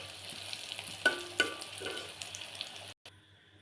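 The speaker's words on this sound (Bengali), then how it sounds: "চিংড়ি মাছ ভাজা হয়ে গেছে, এখন উঠিয়ে নেব।" Shrimp fry over low heat in a pan with a moderate, crackling sizzle. Two or three sharp utensil clinks break in before the sound cuts off abruptly near the end.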